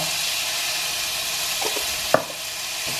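Garlic puree and chili flakes fry in a pan, giving a steady soft sizzle throughout, with a few light scrapes and one sharper stir or tap near the end.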